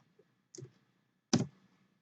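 Two short, crisp computer keyboard clicks while a CLI command is entered for network switch VLAN configuration, spaced about three quarters of a second apart in a quiet room, the second slightly louder.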